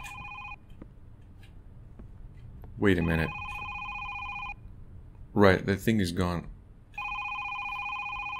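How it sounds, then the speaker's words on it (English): Telephone ringing in a horror video game, an electronic bell that rings in repeated bursts with pauses between, clear and close, while someone talks over the gaps. "Where's the phone sound is coming from here?"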